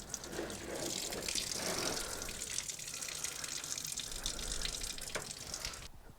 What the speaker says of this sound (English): So first thing we're gonna wanna do is drain the fluids.